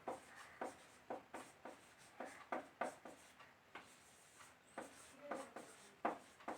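Marker or chalk strokes on a teaching board during a Hindi physics lesson on refractive index, a steady run of quick scratchy taps and short strokes in uneven bursts, fairly faint, with no talking.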